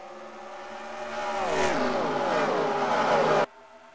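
Race cars roaring around Auto Club Speedway in the NR2003 racing game, several engines whining and rising in pitch as they pass close, loud and continuous before cutting off abruptly.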